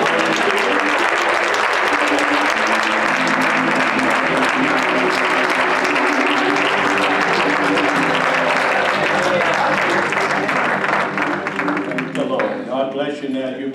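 A church congregation claps hands together during a Sunday morning service, a dense, loud, sustained applause-like clapping mixed with music and voices, fading near the end.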